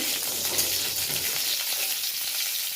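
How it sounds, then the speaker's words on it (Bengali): Cauliflower florets frying in hot oil produce a dense, even, loud sizzle that holds steady without pause, with faint low rumbles and no talking. "সমস্ত ফুলকপিগুলো ভাজবো ফুলকপিগুলো ভেজে তুলে তারপরে মশলা দিয়ে বেশ করে কষাবো"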